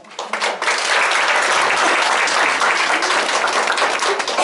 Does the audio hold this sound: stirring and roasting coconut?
no